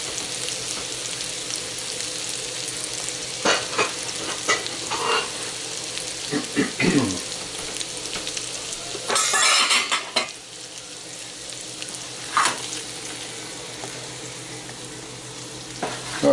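Red beets and shallots sautéing in a pan, a steady close sizzle and frying hiss with intermittent scraping and clinks of a utensil stirring against the pan.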